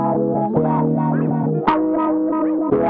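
Synth tone run through Ableton Live 12's Roar effect, a noise source in Wander mode modulating the feedback time, giving a distorted, wobbling, echoing sustained sound with pitch sweeps and a sharp accent midway, steady and loud.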